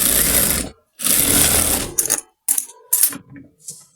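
A sewing machine stitches a salwar in close, loud bursts of rapid needle chatter, two longer runs followed by short stop-start spurts with pauses between.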